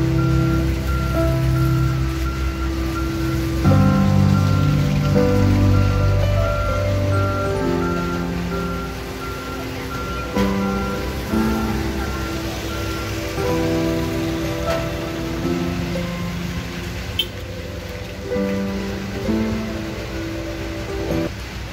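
Rain falling at a flyover construction site near Tegalluar high-speed rail station, a steady patter over a low rumble, with tonal machine or music-like hums layered underneath throughout.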